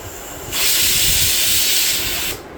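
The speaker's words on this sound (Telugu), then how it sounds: "ఇవన్నీ ఇప్పుడు మనం మిక్సీ వేసుకోవాలండి" A mixie grinder blends sesame seeds, cumin and garlic in a short, loud, steady whirring burst of about two seconds, starting and stopping abruptly.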